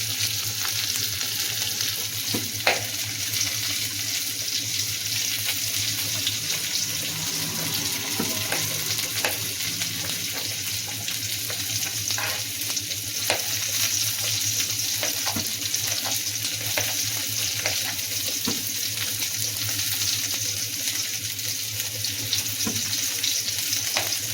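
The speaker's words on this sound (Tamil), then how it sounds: "நல்லா வதங்கட்டும்." Onions and tomatoes sauté in a pan for drumstick sambar with a steady, dense sizzle throughout, broken by light clicks and scrapes of stirring. No one speaks.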